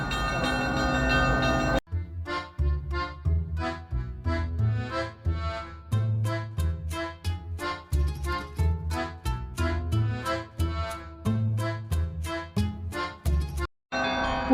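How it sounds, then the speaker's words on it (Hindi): Church bells toll in St. Petersburg, a rapid, ringing peal of many struck bells in a steady rhythm, bright and resonant, sounding fairly close and continuing with no one speaking. "I think you can hear the bells tolling."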